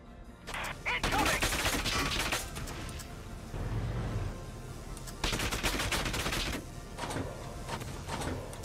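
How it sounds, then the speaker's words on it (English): Bursts of rapid automatic gunfire, with clattering volleys and single sharp shots, from suppressive fire in the video game Valkyria Chronicles 4. The shots come in several loud clusters separated by short lulls. "We need suppressive fire, now!"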